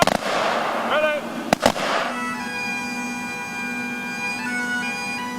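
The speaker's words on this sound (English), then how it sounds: "A 21-gun salute." A 21-gun rifle salute at a sheriff's sergeant's funeral: one sharp, loud volley crack rings out over a low outdoor rumble, followed by sustained musical tones carrying on afterward.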